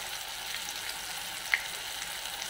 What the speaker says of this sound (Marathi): तर आपण आता हे 2 मिनिटाचं परतून घेऊया